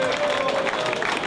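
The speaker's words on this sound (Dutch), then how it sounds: "Applaus voor zo." A live audience at a small venue concert applauds briefly, a steady dense wash of clapping heard up close.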